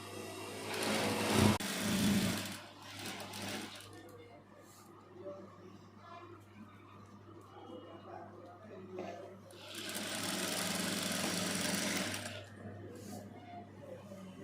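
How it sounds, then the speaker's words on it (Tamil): A sewing machine stitches a saree hem, its fast mechanical whirr starting loud, pausing while someone talks quietly, then running again in a steady burst. "சின்னதாக இப்படி ஒரு மடிச்சுட்டு அப்படியே அடிக்கணும்."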